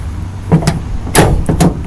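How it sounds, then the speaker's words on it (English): The door latch of a dump truck is worked during a pretrip inspection, producing several close, sharp metallic clicks and clunks in quick succession. "My door latch, not sticking or binding, working properly."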